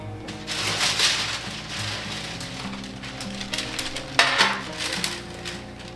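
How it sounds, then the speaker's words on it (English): Metal baking sheet and utensils clatter and clink in a home kitchen while chickpea chocolate chip cookie dough is readied for the oven, with steady rattling handling noise and a sharper clank near the end. "I'm gonna get my baking sheet"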